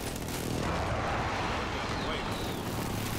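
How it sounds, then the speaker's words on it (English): A precision airstrike lands in Call of Duty: Modern Warfare, a steady wash of distant rumbling blasts and gunfire-like cracks running for about three seconds under a voice. "Enemy precision airstrike inbound."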